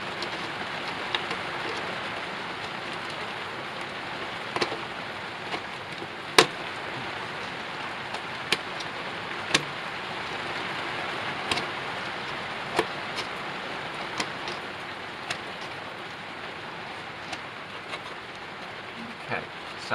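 Heavy rain pours down steadily outdoors in a garden, a dense hiss with scattered sharper drips and splats on nearby surfaces throughout.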